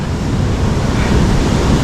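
Sea waves breaking and washing along a shoreline, a steady broadband roar with surging swells and some wind buffeting the microphone, loud and continuous with no voices.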